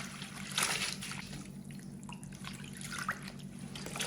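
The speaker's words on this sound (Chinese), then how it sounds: "放入清水中，再次给它淘洗一遍，把里面的泥沙全部都给洗干净" Preserved mustard greens being rinsed by hand in a basin of clean water, giving a steady soft trickle and light sloshing with a few brief drips, close and fairly quiet with no talking.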